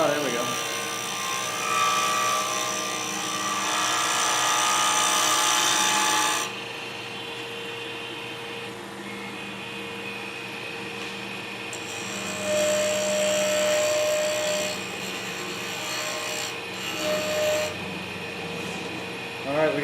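A wood lathe turns a piece of cholla cactus wood at high speed, near 3,900 rpm. It makes a steady, close motor whine with bursts of rubbing and scraping, and faint talk is mixed in.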